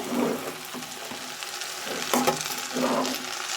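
Boiled cabbage tipped into a frying pan with chana dal, giving a soft sizzle with scraping and stirring clatter of a spoon against the pan, rising in short bursts.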